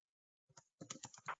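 Fingers tap out a short burst of quick keystrokes on a computer keyboard during a city council meeting, starting with two taps and then a faster run, close and quiet with no talking.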